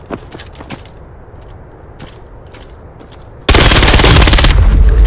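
An APC9 Pro submachine gun fires in Pavlov VR, opening with a few scattered shots and soft clicks before a loud, sustained automatic burst that fills the last second and a half, close and harsh with no talking.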